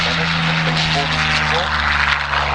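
A Spitfire's piston engine and propeller drone loudly and steadily overhead at the Wings Over Illawarra airshow, with a commentator's voice running over the constant roar.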